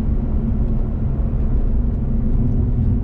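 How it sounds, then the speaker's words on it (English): Steady engine drone from inside a Lotus Evora GT, a constant low rumble with a faint high supercharger whine running through it, no voices. "You hear more of the supercharger whine"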